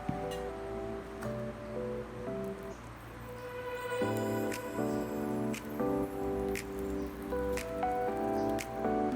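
Mayonnaise is spread over roti for homemade chicken shawarma, giving soft, wet squishing and dripping sounds, faint and close, under steady background music.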